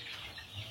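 Chickens in a coop cluck softly and briefly, a faint, low murmur of fowl calls with no speech.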